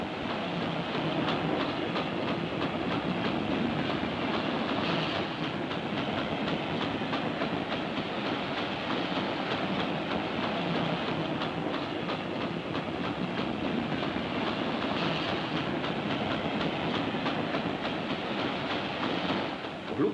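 A passenger railway car rolls along the rails during ride testing, a steady, loud rumble of wheels and body noise with faint rhythmic clatter, continuous and close throughout.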